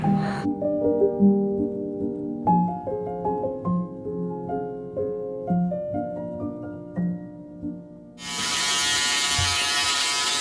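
An electric shaver switches on near the end and runs with a steady, loud buzzing drone, following several seconds of quieter household sounds and light clinks.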